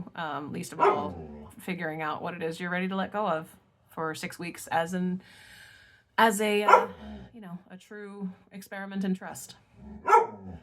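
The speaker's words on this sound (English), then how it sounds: "And I'm sorry for my dog." A pet dog barks and yips intermittently during a home chat, the barks fairly close and mixed in beneath a person talking steadily.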